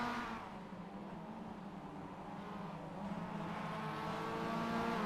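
Mazda MX-5 race cars in a close four-car pack on the Daytona track, engines droning and revving steadily at a distance, faint and continuous without a clear pass-by.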